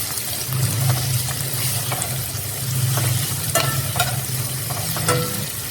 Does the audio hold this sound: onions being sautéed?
yes